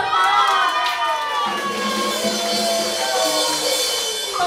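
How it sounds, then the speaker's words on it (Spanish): A crowd at a year-end party cheers and shouts loudly and continuously, with high excited voices, including children's, rising and falling throughout. "¡Aplausos, por favor!"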